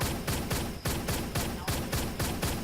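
Shotgun blasts from Truy Kích, a first-person shooter, fired in a steady rhythm of about nine heavy booms in under three seconds, loud and close, with no talking over them.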